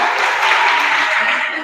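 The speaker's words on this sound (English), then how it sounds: "Let's give our first graders a round of applause." A crowd applauds first graders at an arts instruction press event, the clapping loud and dense throughout without a break.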